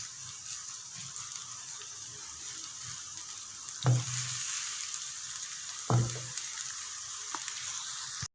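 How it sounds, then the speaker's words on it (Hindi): Chopped onion frying in a pan until light golden, a steady soft sizzle running throughout, with two brief louder clatters of stirring or the pan being moved partway through. "1 अदद प्याज डालेंगे। हल्का सा इसको इसके अंदर लाइट सा गोल्डन करेंगे।"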